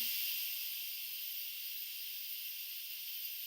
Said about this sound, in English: you'll notice I turn it a little bit, and that steam releases